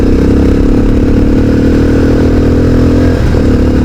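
Modified Bajaj Pulsar 220F motorcycle engine running on a hill road, a loud, steady low drone with a constant rumble and a brief rise near the end, no talking over it.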